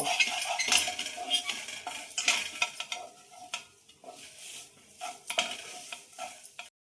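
Mung dal kachori filling being dry-roasted and stirred in a pan, a spoon scraping and clinking against the metal in an irregular rhythm over a soft sizzle, close and fairly busy with brief pauses.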